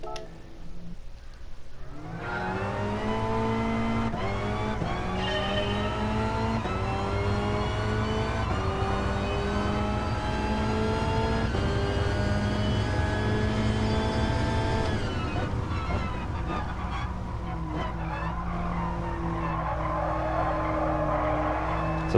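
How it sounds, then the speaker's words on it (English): A race car engine in a sim racing game revs and holds high, rising and falling in pitch through gear changes, loud and continuous with brief tire scrubbing toward the end. "On to driving the car."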